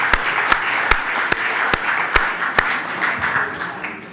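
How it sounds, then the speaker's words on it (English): Guests at a society's annual dinner and AGM applaud in a steady wash of clapping, with a few sharp, louder claps standing out at regular intervals. "Can we have a big round of applause for each other?"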